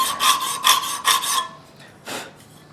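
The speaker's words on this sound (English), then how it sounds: "we're going to pull it back and forth like we're not supposed to use a file to get that" A metal file is pulled back and forth across the edge of a custom flint-and-steel knife blade, giving about five loud, close rasping strokes in steady rhythm, followed by a pause and one fainter, shorter scrape.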